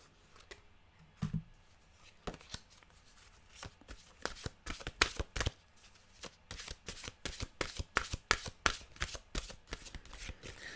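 A deck of mantra cards shuffled by hand, a few scattered riffles at first building into a fast, steady run of crisp card flutters, close and alone.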